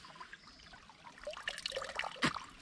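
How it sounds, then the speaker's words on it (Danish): Water spurting and trickling out of a LifeStraw Go bottle filter as air is blown through it, a faint, short burst of splashing and dribbling that builds toward the end. "Så kommer vand ud"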